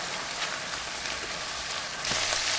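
Ground turkey seasoned with salt and pepper sizzles and crackles steadily in a hot pan, a close, even frying hiss that swells a little louder near the end.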